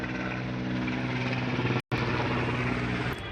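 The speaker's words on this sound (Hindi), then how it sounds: "हेलीकॉप्टर जाता हुआ यहाँ पर।" A helicopter passes overhead at an outdoor tennis-ball cricket match, its steady loud rotor drone filling the air with a continuous low throb, broken only by a very brief dropout.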